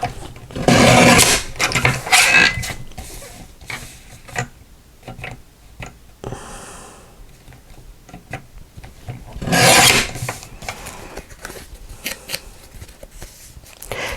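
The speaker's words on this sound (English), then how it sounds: "I'm going to take my trimmer and I'm going to neaten up the edges that were not perfect" A paper trimmer slices along card edges for a handmade Fourth of July card, giving two loud rasping cutting strokes near the start and end with softer scraping, clicks and handling noises between them, close by and with no talk.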